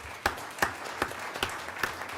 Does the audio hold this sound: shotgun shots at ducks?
no